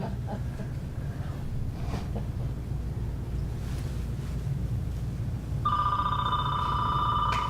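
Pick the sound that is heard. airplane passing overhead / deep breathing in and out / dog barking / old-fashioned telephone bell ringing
old-fashioned telephone bell ringing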